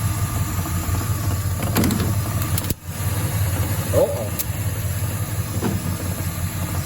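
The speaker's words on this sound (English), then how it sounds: "That rattling is just the air cleaner." Idling 1970 Oldsmobile Cutlass engine with a loose metal air cleaner rattling on top, a steady close rumble with light buzzy rattle throughout, a voice speaking over it.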